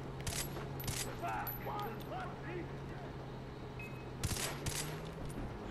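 Bursts of video game gunfire from Far Cry 3, with sharp broadband shots at the start and again near the end, over a steady low hum and faint game sounds.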